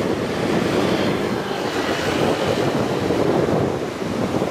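Sea waves roll in near anchored fishing boats along the Tuy Phong, Bình Thuận coast, a loud continuous surf rumble mixed with heavy wind buffeting, swelling and easing slightly.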